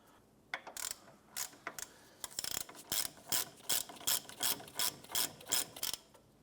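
A ratchet wrench turns a front caliper bracket bolt on a 2015-2020 Cadillac Escalade, making a close run of about ten quick, evenly spaced clicking bursts with no talk.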